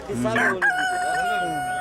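A rooster, one of the fighting birds kept by a poultry breeder, crows at a market fair in Dnipro. A single loud, drawn-out crow rings close by with no talk over it.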